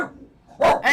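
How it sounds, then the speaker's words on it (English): A dog gives two quick, loud barks close by, after a brief quiet moment. "Are you done barking at the door, bud?"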